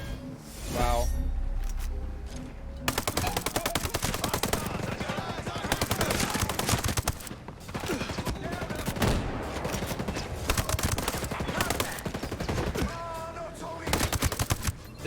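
Rapid, dense bursts of SVD rifle fire in Ghost Recon Breakpoint crack out near and loud, running almost without pause through the whole stretch.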